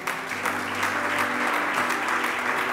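A church congregation applauding the Lord, dense steady clapping from many hands filling the room, loud and continuous with no talk over it.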